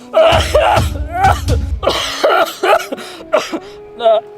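Harsh, repeated coughing and throat clearing in close succession, loud and near, with strained vocal sounds between the fits.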